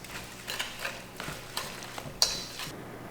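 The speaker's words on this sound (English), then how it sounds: "grated zucchini, packed grated zucchini. I'm going to add that. We'll combine these ingredients." Grated zucchini being stirred into muffin ingredients in a bowl, with a series of soft, irregular scraping strokes and one sharper clink, close and fairly quiet, with no talking.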